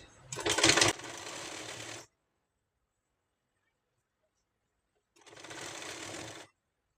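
A sewing machine stitches a blouse in two separate runs, the first about two seconds long and starting with a louder burst, the second shorter, with a clear silent pause between them.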